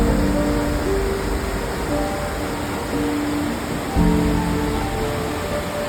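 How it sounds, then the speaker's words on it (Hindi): Floodwater rushing down a swollen river at Sahastradhara near Dehradun after a cloudburst, a steady, loud broadband roar with no letup and a brief surge partway through, with no voices. "यहाँ से दिख रहा है वो कैसे नदी पूरी वेग से आ रही है"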